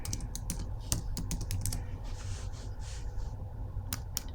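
Fingers type on a computer keyboard while a text label is entered in a design program, with quick irregular key clicks up close and a short pause midway.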